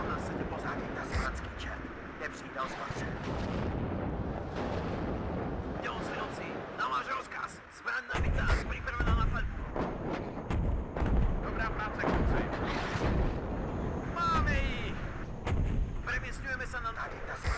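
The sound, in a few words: artillery firing in WARNO video game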